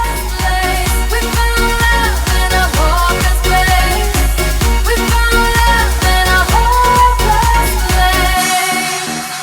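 A pop song plays loudly, with a pounding four-on-the-floor beat, bright synth chords and melodic lines driving steadily before the music cuts off near the end.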